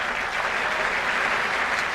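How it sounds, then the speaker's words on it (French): A crowd bursts into steady, dense applause, a continuous wash of many hands clapping together at even loudness throughout, with no voices standing out. "la foule se mit à applaudir."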